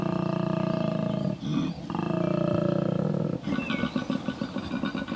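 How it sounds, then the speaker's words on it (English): A male koala bellows in a deep, rasping, rhythmic roar, loud and close, with snoring inhales alternating with resonant grunting exhales over several seconds. "a koala's bellow can announce his presence up to 1 kilometre away"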